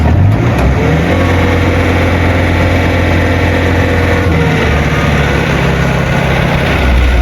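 A heavy equipment engine runs loud and close, a steady low rumble with a gentle rise in revs partway through, no voices over it.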